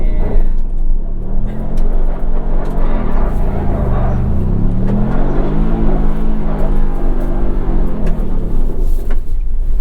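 Ken Block's car spinning a donut, its engine roaring loud and continuous with the pitch rising and falling as it whips around, close and dominant.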